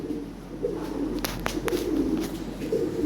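Pigeons, including Lahori and Bombay breeds, coo in a low, continuous murmur at a moderate distance, broken by a few sharp clicks.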